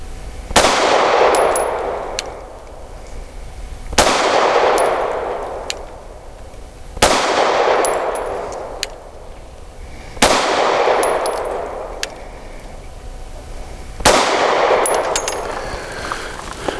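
Five loud pistol shots from a Sig P320 with factory X grip module firing PMC Bronze ammunition at 7 yards on a range, spaced about three seconds apart, each a sharp crack with a ringing tail and faint metallic pings.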